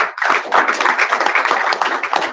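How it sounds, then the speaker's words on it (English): Audience applause at a press conference after the 2023 presidential election, a dense, steady wash of many hands clapping that carries on loudly for the whole stretch with no voices on top. "Another round of applause for him."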